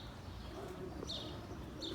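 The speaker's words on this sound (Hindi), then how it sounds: "ये कबूतर खोल दिए, अल्लाह करे बैठ जाए।" Pigeons cooing outdoors as released birds return to land, soft low coos with a couple of brief higher chirps, faint and distant against steady background noise.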